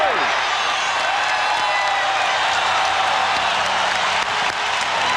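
A packed basketball arena crowd at the Rose Garden roars and applauds for the Trail Blazers during a playoff game against Minnesota, a steady, dense wall of cheering that holds loud throughout.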